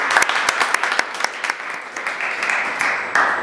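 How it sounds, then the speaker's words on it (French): An audience applauds a panel speaker at the FESTIGORA 2021 panel day, a loud, sustained burst of clapping from a crowd with no talk over it. "Mesdames et messieurs, je vous demande d'acclamer ce monsieur pour cette question."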